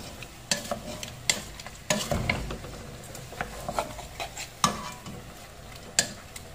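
Pork sinigang is stirred in a cooking pot, with repeated clanking scrapes of a ladle against the metal over a faint simmering sizzle, close and uneven in rhythm.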